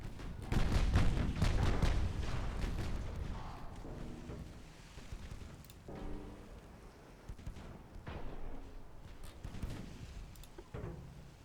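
Heavy warship guns boom in a 1930s naval battle game, with loud rolling salvos at the start, then scattered distant shots and thuds echoing across the sea.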